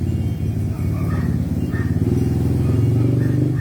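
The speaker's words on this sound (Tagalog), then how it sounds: "Ang ingay ng motor eh." A motorcycle engine rumbles loudly nearby, its low throb rising and falling with revving before settling into a steady heavy drone, with no talk over it.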